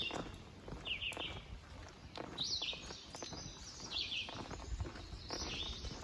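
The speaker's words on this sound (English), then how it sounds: "You hear the birds chirping this morning." Faint bird chirps sound intermittently in the morning over footsteps crunching along the Appalachian Trail, short high tweets repeating every second or so.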